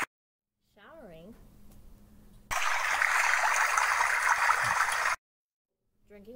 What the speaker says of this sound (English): Showering.